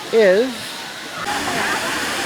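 Ithaca's Lower Falls pours steadily by a swimming area below a dam, a broad, constant rushing roar under a brief spoken word.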